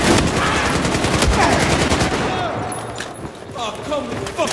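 Gunfire in the Battlefield 4 Shanghai mission, dense bursts of automatic fire and shots at close range, loud throughout and thinning slightly near the end.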